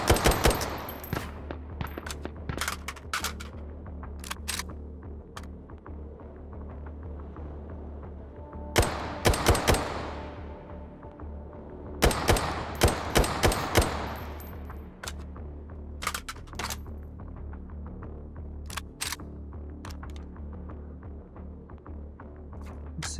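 Gunfire from iron-sight sniping in the VR shooter H3VR, Take and Hold mode: scattered sharp shots over a steady low hum, with two dense bursts of rapid fire in the middle and single cracks toward the end.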